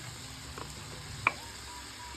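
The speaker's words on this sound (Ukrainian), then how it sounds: "Помішуючи, обсмажуємо до м'якості овочів." Pieces of meat with chopped onion, carrot and garlic frying in a pan while being stirred, a faint steady sizzle with a soft clink of a utensil against the pan.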